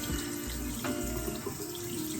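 A tap runs steadily, filling a sink with warm water that splashes onto a cloth, close and continuous with no talking.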